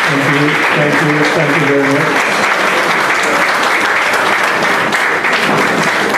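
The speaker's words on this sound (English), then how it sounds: "I never knew that I could have got so many claps." Loud, dense audience applause for someone at a Carenage and Angel Harps International celebration, sustained clapping filling the space while someone speaks briefly over it at the start.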